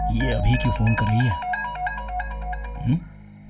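An incoming call sets off a phone ringtone, its repeating melodic tones sounding clearly after a man's brief spoken line and continuing alone before a short vocal sound.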